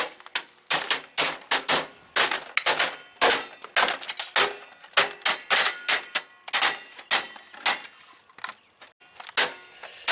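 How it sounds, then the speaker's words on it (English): A computer DVD drive is smashed to pieces with rapid, irregular sharp plastic-and-metal cracks and clatters, loud and close, striking repeatedly with brief pauses and no speech. "Now I'm going to smash the DVD drive to pieces!"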